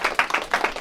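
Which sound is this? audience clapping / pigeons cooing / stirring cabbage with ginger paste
audience clapping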